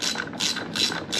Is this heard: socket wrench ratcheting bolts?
yes